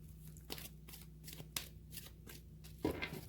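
Tarot cards being shuffled by hand in several quick riffling bursts separated by short pauses, close and fairly quiet, with a low steady hum underneath and no talk.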